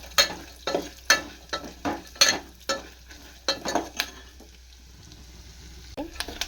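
Lentils (dal) frying in a pan with several bursts of sizzling that rise and fade, some of them stir-driven and close by. A quieter stretch of low sizzle follows near the end.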